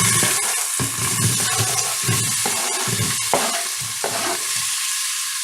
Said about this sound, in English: Now I'm going to add a medium chopped onion.